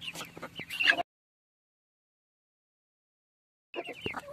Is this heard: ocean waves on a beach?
no